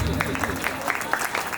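Applause from an audience at a school annual function as guests are invited onto the stage; a brief, steady patter of clapping with voices mixed in.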